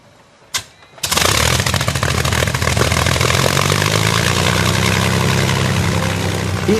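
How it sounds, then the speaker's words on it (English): A Rolls-Royce Merlin aero engine on a Lancaster bomber cranks with a short cough, then catches and roars into a loud, steady, rough rumble that holds close and continuous to the end. "The Merlin, built by Rolls-Royce, is exactly the same engine which powered the Spitfire and its Battle of Britain partner,"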